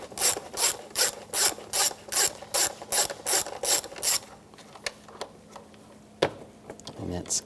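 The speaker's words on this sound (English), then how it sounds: "Use a 10mm socket." A ratchet with a 10mm socket loosening a bolt on a 2007-2013 Mini Cooper valve cover, about a dozen rhythmic close clicking strokes, then quieter rubbing and a few knocks.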